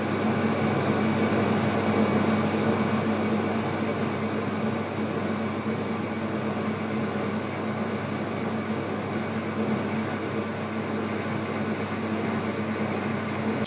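A lathe runs steadily at a higher belt speed, giving a continuous even motor and spindle hum with a faint tonal whine, unchanging in level throughout, alone without talk.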